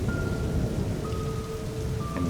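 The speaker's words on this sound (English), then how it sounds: "Another crack of thunder." A rainstorm pours down steadily while low thunder rumbles beneath it, loud and continuous throughout, with no voices.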